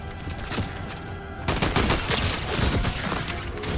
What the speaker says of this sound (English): Why does he always shoot me?